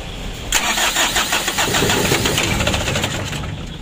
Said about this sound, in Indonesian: Oke, kita coba lagi starter.